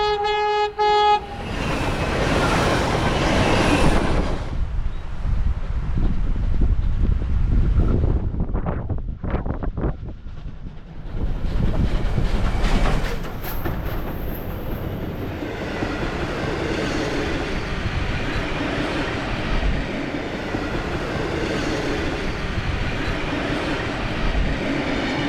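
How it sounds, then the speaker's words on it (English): Steam train hauled by R-Class and S-class locomotives rolls past outdoors, loud rumbling chuffing and wheel noise with heavy wind buffeting the microphone, and a whistle toot near the start. "the R-Class was only steaming very lightly there, but the S is giving the train a real shove."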